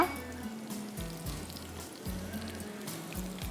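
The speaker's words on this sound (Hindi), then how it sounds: "इसके बाद हम इसमें डालेंगे राई दाना आधा टीस्पून, कड़ी पत्ता" Mustard seeds and curry leaves sizzling in hot ghee, a dense crackling fry with a repeating low hum from the stove or fan underneath, close and steady with no talking.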